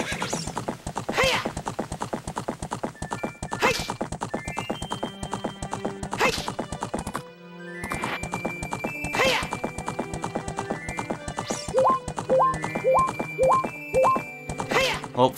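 A horse gallops in the video game Ocarina of Time, steady rapid clip-clop hoofbeats with occasional neighs and game music chimes, continuing for the whole stretch apart from a brief gap.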